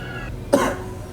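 A single short, sharp cough from a person who has a fever and a cough, close and loud, heard alone.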